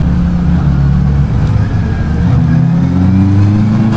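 A Honda CB650R E-clutch motorcycle engine revs steadily and loud during a gear shift, the pitch dipping and climbing again as the next gear engages, with wind noise throughout.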